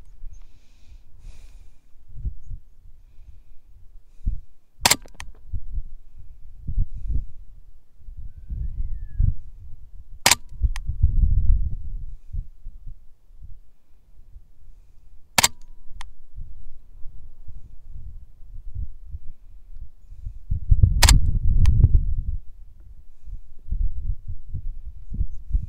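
A Ruger 10/22 rifle with a free-floated barrel and lightened trigger fires four sharp, isolated cracks about five seconds apart, with low rumbling handling noise between shots.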